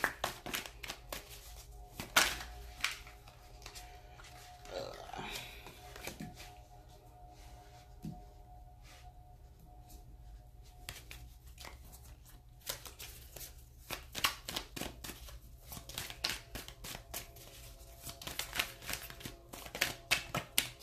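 A deck of tarot cards being shuffled by hand, soft riffling and flicking bursts that come in quick clusters, close and fairly quiet, with brief pauses between runs of shuffling.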